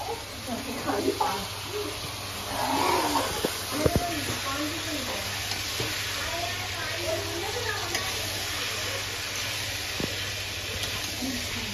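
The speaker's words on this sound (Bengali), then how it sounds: "এই দেখো এই যে কষাচ্ছে" Food being sautéed and stirred in a pan in a home kitchen, giving a steady sizzle with a few sharp scrapes, under and between voices talking.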